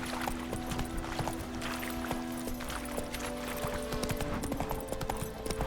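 Roach, the horse in The Witcher 3, trots with quick, busy hoofbeats over a loud game backdrop that holds sustained music tones.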